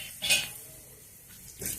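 Mustard seeds, cumin and chana dal fry in a pan as a spoon clinks and scrapes against the metal, two short stirring bursts over a low sizzle.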